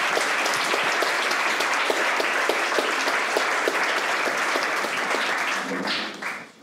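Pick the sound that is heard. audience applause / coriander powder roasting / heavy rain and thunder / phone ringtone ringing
audience applause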